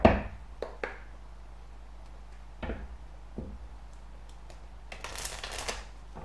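Oracle cards being shuffled and drawn during a reading, giving quiet scattered taps and flicks, then a brief riffling burst near the end, with no talk.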